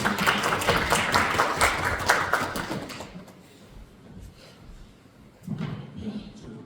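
Audience applause at a Korean book talk on the history of the National Security Law, a dense burst of clapping from a seated crowd that fades after a few seconds, with a brief smaller ripple of claps near the end.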